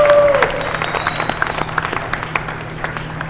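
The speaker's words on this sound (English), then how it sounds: "Let's give Maria a round of applause." Crowd applause in a gym on senior night at a girls' basketball game, loud dense clapping from the stands with scattered cheers, a brief tone at the start.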